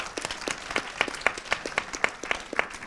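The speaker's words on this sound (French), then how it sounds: "On peut les applaudir." An audience at a round-table talk on travel applauds, a crowd of hands clapping in a fairly loud, steady burst with a few distinct nearby claps standing out.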